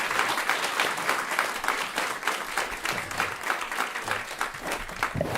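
An audience at a climate action panel on food waste applauds as the panelists leave the stage, dense sustained clapping throughout, fairly close and loud.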